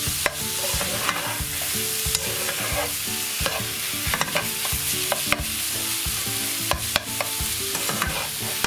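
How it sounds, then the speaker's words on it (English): Chicken for a pasta bake being stir-fried over high heat, with rapid, repeated spatula scrapes and clacks against the pan over a constant close sizzle, no voices. "Just like a stir fry. High heat, just keep on stirring."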